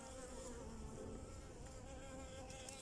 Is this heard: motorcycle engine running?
no